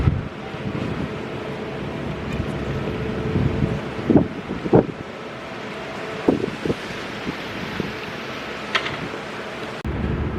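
Outdoor wind in Ontario, California, blowing as a soft, continuous rush with a few brief knocks and bumps, no talking.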